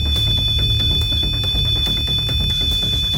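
In a house at night, a REM pod ghost detector keeps up a steady high electronic alarm tone, loud and close, with faint clicks and rustles beneath it.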